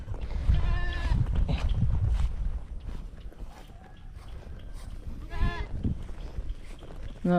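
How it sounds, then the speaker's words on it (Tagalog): A farm goat bleats loudly up close in a few harmonic cries, with other livestock sounds and people talking around it in a rural yard. "Nabawasan po kami ng isang kambing."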